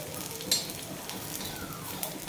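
Dry coconut and onion roasting in a little oil in a pan, giving a steady soft sizzle with a couple of brief stirring clinks, close and fairly quiet.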